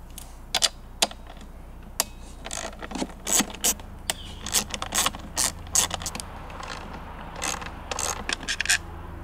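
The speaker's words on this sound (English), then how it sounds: "using our 8mm socket, we can remove these three." An 8mm socket ratchet clicks in quick bursts while backing out the air filter cover bolts on a Honda EU2200i generator. The sharp ratcheting is close and fairly quiet, with short pauses between runs and no talking.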